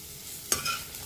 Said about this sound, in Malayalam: ക്യാബേജും കൂടെ ചേർത്തതിന് ശേഷം നന്നായി ഇളക്കി ഇതൊന്ന് വാടി വരണം